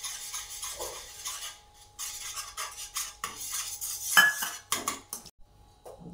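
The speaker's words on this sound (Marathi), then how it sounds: "एक हाताने असं टाकायचं आहे आणि एक हाताने असं ढवळत राहायचं आहे बघा" Gram flour batter stirred continuously in a pan over low gas while flour is added, producing intermittent metal utensil scrapes and clinks against the pan, with brief pauses between strokes.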